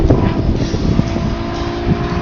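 Steady, loud propeller-engine drone from Patty Wagstaff's aerobatic airplane at the Dayton Airshow, a Barrett Performance Aircraft engine turning a German three-bladed prop, running smooth and continuous throughout.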